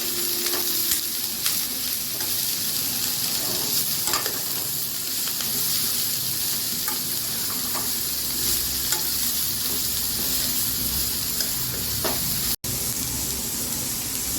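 Cabbage being stirred as it fries in a pan for a homemade poriyal: a steady, close sizzle with repeated scraping and tossing strokes throughout and no talking.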